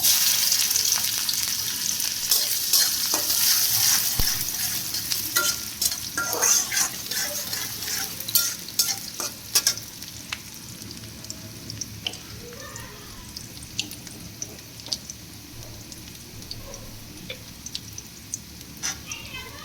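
Potatoes for aloo bhaji fry in hot oil, a steady crackling sizzle with scattered scrapes and clinks of stirring in the pan.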